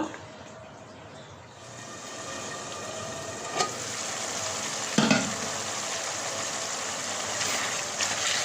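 Spice paste cooked down a second time in a pan for a kochur loti and jackfruit seed dish, giving a steady, moderately loud sizzle and stir with a couple of sharp clinks partway through.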